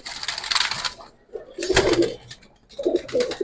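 Hungarian Budapest pigeons coo in three short bursts close by, with faint rustling between the calls.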